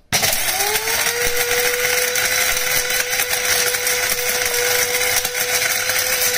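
A small electric mini grinder whirs at a steady high-pitched drone as it pulverizes cinnamon sticks into powder, starting abruptly and running loud and continuous without any talking.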